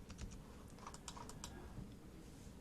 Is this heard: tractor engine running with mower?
no